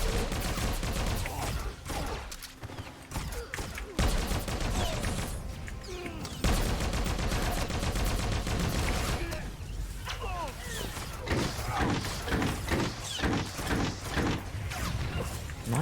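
Blaster firefight in Star Wars: The Old Republic, with dense rapid bursts of shots and sharp cracks repeating throughout, mixed with whooshes and impacts under occasional shouted voices.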